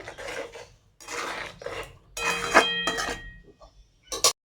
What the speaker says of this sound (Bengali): তো ভালো করে নেড়ে চেড়ে নিই বন্ধুরা